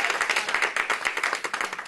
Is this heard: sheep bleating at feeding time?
no